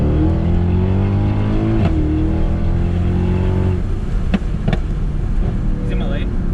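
Loud, close Mercedes-AMG engine heard from inside the car, droning and rising in pitch as it accelerates hard. The pitch drops briefly at shifts before climbing again, with faint voices underneath.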